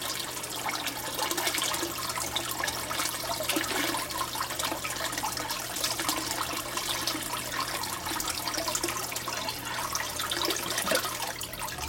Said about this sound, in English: the siphon's broken when you hear that gulp